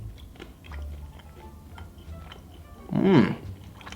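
A Kind bar with dark chocolate and coconut is bitten with one short, close crunch, preceded by faint mouth sounds.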